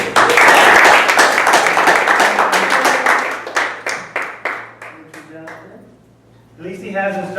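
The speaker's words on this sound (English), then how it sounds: "Please give a warm round of applause to our President" A club audience bursts into loud applause for its president, dense clapping that quickly thins into scattered separate claps and fades out, followed by a voice starting to speak.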